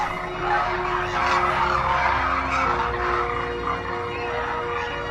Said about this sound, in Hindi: थार में माइग्रेट होकर आई ये डेमोसेल क्रेन्स हजारों का झुंड बनाकर रहती हैं।